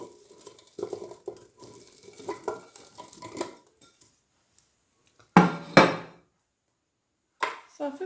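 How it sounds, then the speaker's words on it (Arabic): A utensil stirs onion and garlic in a pot with soft scraping and light clinks, then comes a quiet pause and two louder clattering strokes. Faint talk is heard early on. "صافي كنحركوها هكا."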